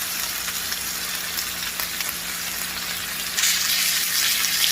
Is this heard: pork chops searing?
yes